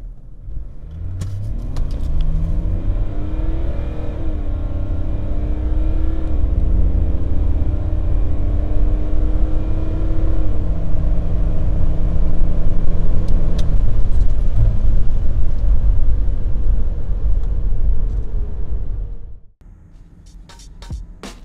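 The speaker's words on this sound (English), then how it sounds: "It accelerates from 0 to 100 km per hour in 8 seconds" A BMW E39 530D diesel with automatic gearbox accelerates hard from 0 to 100 km/h, engine note rising through several gear changes, loud and close, then dropping off abruptly near the end.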